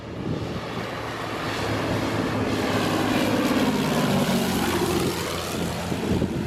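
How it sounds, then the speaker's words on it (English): A fixed-wing airplane's jet engine roaring steadily on approach over the beach at Airplane Beach in St. Maarten, loud and sustained throughout, mixed with surf and wind. "We got our first plane coming in."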